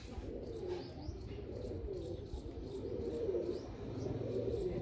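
Pigeons coo in a soft, steady rolling murmur throughout, joined by light chirps, close by and fairly quiet.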